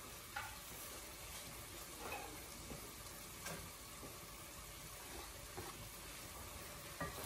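Egg bhuna cooking in a pan with chili and coriander just added, a faint steady sizzle and hiss with occasional soft clicks from stirring.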